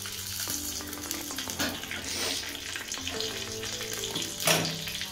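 Whole cumin seeds and dried red chillies fry in hot oil for a daliya recipe, giving a steady, close, dense sizzle and crackle throughout, with a brief louder spatter near the end.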